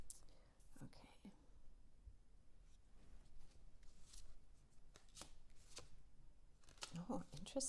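Tarot cards being shuffled by hand in a quiet room, soft papery riffles and taps in scattered bursts, close but faint, with whispered speech in between.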